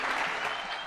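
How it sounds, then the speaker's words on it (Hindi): Loud, sustained applause from a large crowd at a foundation stone unveiling for the Ganga Expressway in Shahjahanpur, Uttar Pradesh, steady clapping filling the whole moment. "जोरदार तालियों के साथ स्वागत करें।"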